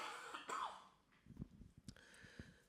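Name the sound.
cough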